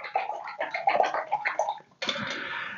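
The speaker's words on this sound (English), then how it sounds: "Okay, let's rinse." A paintbrush swished and rinsed in a water jar during painting, giving soft repeated splashing and clinking strokes, then a brief pause and a steadier burst of swirling water, close and fairly quiet.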